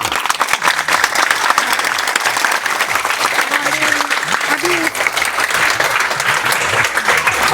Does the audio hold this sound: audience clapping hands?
yes